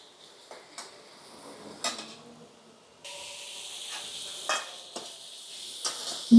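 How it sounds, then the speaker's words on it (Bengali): Spice paste for a topse fish curry fries in a pan with a soft sizzle and occasional scraping stirs, faint at first and then a steadier hiss. "এটা একটু ভালো মতো কষিয়ে নেবেন।"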